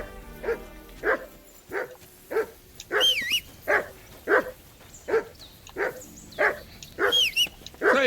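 A dog in the video game Kingdom Come Deliverance 2 barks repeatedly and loudly, about a dozen sharp barks and yips in an uneven rhythm, close by, with no talking over them.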